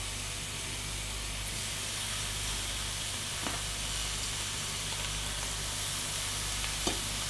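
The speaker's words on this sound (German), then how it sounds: "Dann können wir jetzt unser Fleisch da reintun." Beef minute steak frying in a hot pan gives a steady, even sizzle with a soft hiss, broken by a couple of brief clicks, and no voices over it.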